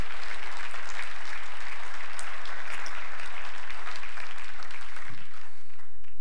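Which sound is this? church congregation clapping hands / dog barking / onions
church congregation clapping hands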